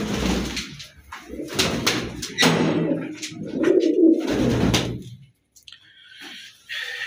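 Pigeons coo in soft, throaty bursts close by, mixed with rustling and a few sharp knocks, then a quieter stretch near the end.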